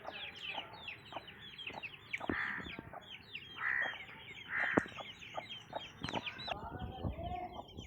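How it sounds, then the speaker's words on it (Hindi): Aseel chickens in a coop, including a black hen among young birds, cluck and call repeatedly at close range, with overlapping short squawks and a few louder drawn-out calls rising over steady flock chatter. "ये ब्लैक मुर्गी है जी।"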